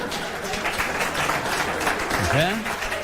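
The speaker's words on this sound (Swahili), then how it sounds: "Mpige makofi." An audience gives a student parliament member steady, continuous clapping at a secondary school gathering, with a voice speaking over it.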